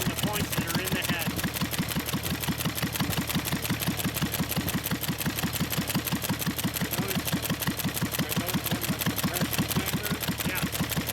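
A 1923 McCormick Deering 1.5 hp IH low-compression engine with a head igniter runs steadily close by, giving a fast, even mechanical clatter over a constant low hum, with no talk.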